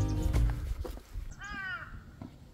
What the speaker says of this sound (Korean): 까마귀 소리만 들리네요